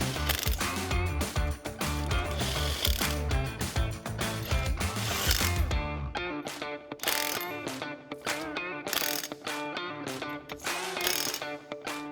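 A ratchet tightens the supplied lug nuts on wheel spacers of a 2024 Mustang. Dense mechanical clatter gives way to rapid, close clicking bursts in quick repeated strokes.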